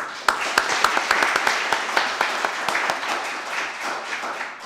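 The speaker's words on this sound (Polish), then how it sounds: "Wielkie brawa." An audience claps for award-winning top students in the cook and locksmith trades at a regional ceremony, individual hand claps standing out in a loose, fairly sparse rhythm close by, with faint voices underneath.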